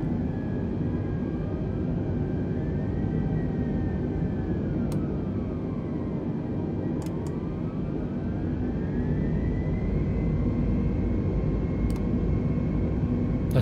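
Simulated aircraft engines in an Xbox flight simulator hum as a steady, loud rumble, with a whining tone that rises and falls as each throttle is moved in turn, and a few faint clicks on top.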